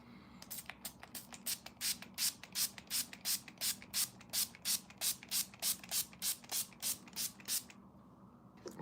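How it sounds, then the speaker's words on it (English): A face spray mist is pumped over and over in a quick, steady rhythm, about twenty short hissing bursts close to the microphone with no voices. "let this dry just a little bit, and spray our faces"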